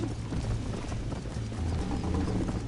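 A horse gallops steadily through Red Dead Redemption, its hoofbeats a rhythmic clip-clop. The pounding is close and constant and sits under a low, rumbling wash of background noise, with no talking.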